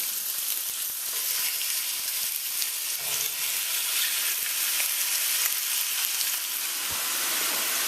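Lamb chops brown on high heat in a hot pot, with a loud, continuous hissing sizzle and small crackles throughout and no voices.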